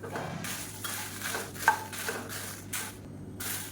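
Dried red chillies and a sprig of dried curry leaves are dry-roasted and stirred in a pan, with a spatula scraping and rattling in short irregular strokes, close and fairly loud.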